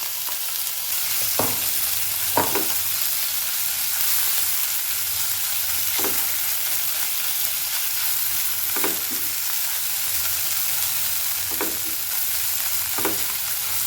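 Cumin, asafoetida and ground onion-coconut paste sizzling in hot oil for patwadi rassa, a constant close hiss with a handful of soft spatula scrapes spaced through it, no voices.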